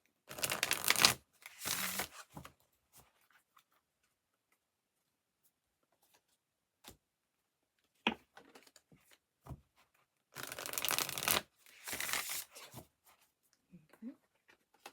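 Tarot cards being shuffled in close bursts, a couple of quick riffling passes separated by quiet pauses and a few small handling clicks.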